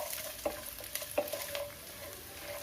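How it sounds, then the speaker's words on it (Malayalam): Coconut pieces frying in coconut oil, a steady soft sizzle with a few brief scraping stirs breaking through at intervals. "തേങ്ങാക്കൊത്ത് ഇത് നമുക്ക് വെളിച്ചെണ്ണയ്ക്കകത്തിട്ട് നന്നായിട്ട് മൂപ്പിച്ചെടുക്കണം."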